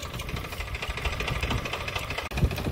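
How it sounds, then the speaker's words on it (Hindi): A tractor engine idles nearby on a farm with a steady low chugging rumble and vibration, no voices over it. "अगोरे जी जल्दी जल्दी ले लो ट्रैक्टर।"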